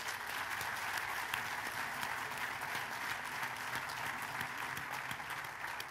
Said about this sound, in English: let's give Sam and Miranda another round of applause